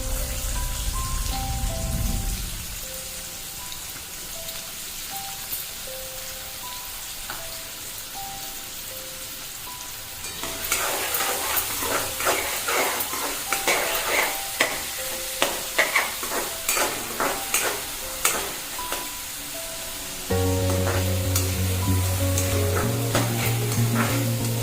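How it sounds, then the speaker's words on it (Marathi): Chopped onion and half a spoon of cumin sauté in hot oil until golden for a dry green-bean sabzi. A steady sizzle runs throughout, and spatula scrapes and clicks grow busier and louder about halfway through, with a faint tonal hum behind. "कांदा आपल्याला थोडंसं गोल्डन होईपर्यंत परतून घ्यायचा।"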